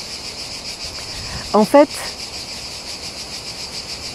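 Cicadas keep up a steady, high, buzzing drone throughout, and someone briefly speaks over it partway through.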